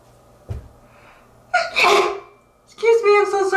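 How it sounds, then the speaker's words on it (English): A woman sneezes close up: a sharp inhaled gasp builds into one loud sneeze, followed by a voiced exclamation as she resumes talking. "I feel like I'm going to sneeze, sorry."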